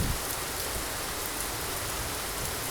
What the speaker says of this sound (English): So you guys can see it's raining.